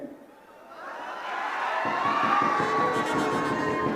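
Crowd at a Congress political rally, the Jai Hind gathering, swells from a quiet murmur into loud, sustained cheering and applause. Shouting voices blend over a dense wash of clapping that continues to the end.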